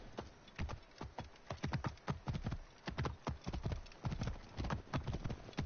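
Horse hooves clip-clopping at a steady gallop in Assassin's Creed Origins, a rapid regular stream of soft, fairly quiet hoofbeats with no talking.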